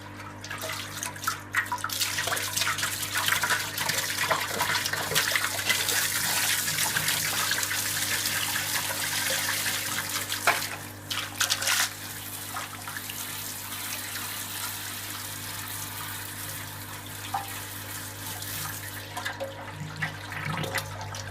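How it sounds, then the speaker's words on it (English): Leftover hot liquor tank water rinsing out homebrew brewing equipment: steady splashing and running water, heavier for the first half, then a lighter, uneven trickle with scattered splashes. "use the water that's left in the HLT in order to rinse all this stuff out"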